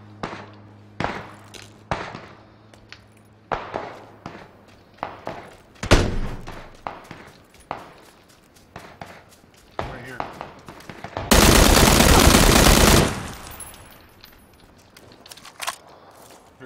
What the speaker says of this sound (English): With someone shooting at me.